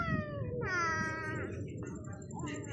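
A cat meows several times in a row, drawn-out, wavering calls at moderate distance over a steady outdoor background hum, with no one speaking.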